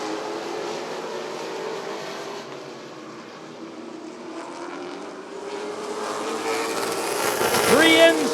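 Late model race cars roaring around the oval at Rockford Speedway during a heat race, a continuous engine drone that swells as cars pass close near the end, with a tonal whine sweeping through.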